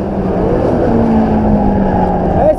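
A drag race car at Interlagos roars loudly through a corner, its engine tone rising and sweeping steadily over crowd noise, with a voice faintly audible underneath.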